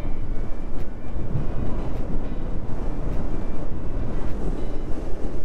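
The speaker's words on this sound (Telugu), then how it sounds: "ఇటు బ్యాక్ వాటర్స్, అండ్ సూపర్ గాలి వస్తుంది" Strong coastal wind buffets the microphone on a motorbike ride between the sea and backwaters, a loud continuous rushing roar with gusty low rumble and no voices.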